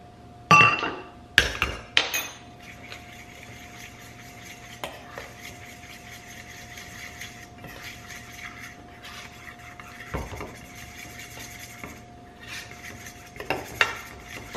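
Metal utensil scraping and clinking in a pot as flour is stirred into melted butter to thicken a stew, with a few sharp clanks at the start and scattered taps later, close and alone.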